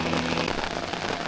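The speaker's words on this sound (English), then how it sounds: "it's raining again, but it's pretty calm rain, just straight down with no winds" Light, steady rain falls straight down on a calm day with no wind, making a dense, even patter and hiss that continues without a break.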